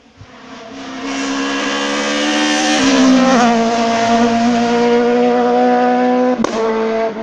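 A rally car at the 25th Rallye de la Fourme 2017 races past, its engine rising to a loud, high-revving roar with gear changes, then fading as it moves away.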